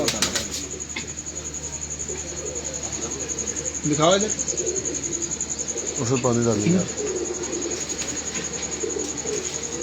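Rooftop pigeons give two soft, rolling coos a couple of seconds apart, close but low under a steady high whine and hum, while people talk nearby.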